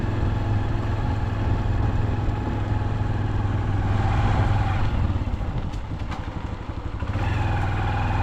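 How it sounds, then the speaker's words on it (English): A motorbike ridden slowly, engine running at low revs with a steady rumbling idle and some clatter, close and continuous throughout. "I'm maneuver around here with my motorbike"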